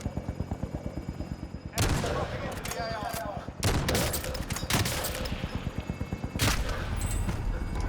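Bursts of video game gunfire, rapid automatic volleys with loud sharp onsets, come in several waves over a steady rhythmic background.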